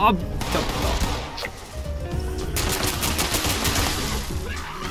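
Repeated gunfire from a two-shot explosive Handmade rifle in the video game Fallout 76, a busy stream of sharp shots and blasts that runs almost the whole time with little pause.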